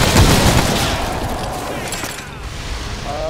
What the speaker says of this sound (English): Didn't you hear the explosion the moment we got here?